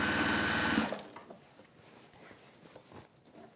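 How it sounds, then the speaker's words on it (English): A sewing machine stitches a drawstring shopper in a short, loud, fast-whirring burst that stops abruptly, leaving quiet handling noises afterward. "just because I'm sewing in a straight line, effectively"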